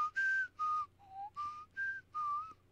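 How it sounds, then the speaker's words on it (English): Someone whistles a short tune of six clear notes with brief gaps between them, close and fairly quiet, no talking. "Who's making that whistling sound?"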